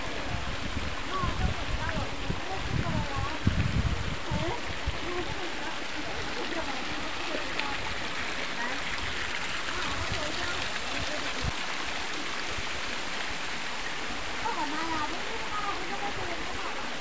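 Steady rushing water pours and splashes continuously into a pond, with faint bubbling over a constant wash of noise.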